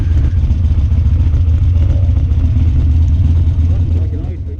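A Harley-Davidson 48 motorcycle rolls slowly down a snowy, slippery road toward a driveway, its engine rumbling low and close in a steady, gently throttled idle that fades slightly at the end.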